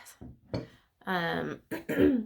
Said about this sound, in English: I'm still gonna clear my throat